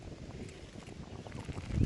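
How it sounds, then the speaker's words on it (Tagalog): Faint wind gusts rumble and buffet across an organic Swiss chard farm on a sunny day, with a low, uneven roar that swells louder toward the end. "Medyo mahangin."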